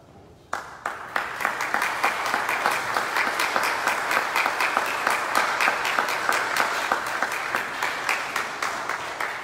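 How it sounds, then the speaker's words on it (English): A church congregation at a liturgy applauds the parents with sustained, even clapping that starts sharply and holds at full strength, a full room of hands applauding steadily throughout. "We just give moms and dads a round of applause."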